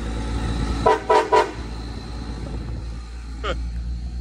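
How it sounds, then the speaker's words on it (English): Three short, loud horn honks in quick succession, then a fainter single toot a couple of seconds later, over a low engine rumble. "I'll honk the horn"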